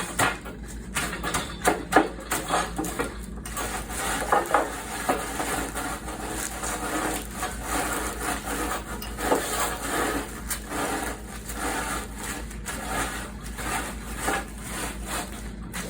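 Graham crackers crushed into crumbs with a rolling pin for a white chocolate cheesecake mousse, giving a steady run of crunching, crackling and rolling sounds up close, without talk.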